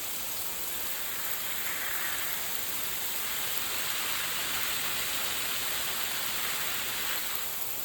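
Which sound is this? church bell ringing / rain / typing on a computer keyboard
rain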